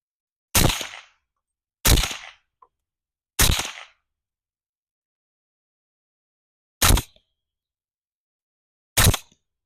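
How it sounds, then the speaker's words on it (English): Five suppressed shots from a short 300 Blackout pistol fitted with a Silencer Co Omega 300 can, fired into dirt; loud sharp reports, the first three about 1.5 seconds apart, then two more after a long pause, each with a short decay. "let's see how this can does on this little short 300 blackout pistol"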